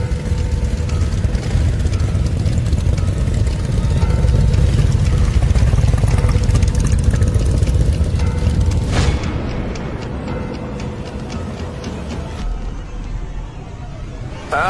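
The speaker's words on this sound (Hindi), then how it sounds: "मोटरसाइकिल की आवाज आई।" A motorcycle engine rumbles into a village on a cold day, a steady loud mid-pitched drone that holds for several seconds and then eases off and fades as the machine settles.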